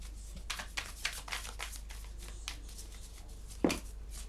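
Tarot cards are shuffled in a rapid series of soft riffling bursts, faint and close, ending with one louder slap of the deck.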